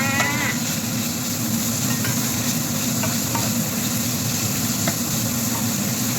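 Cabbage and pork belly stir-fry in a pan with a steady, loud sizzle, while stirring adds faint scrapes and clicks throughout.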